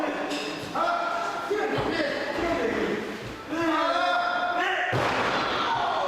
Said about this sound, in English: the Baker had him scouted and pushed him face first at the turnbuckle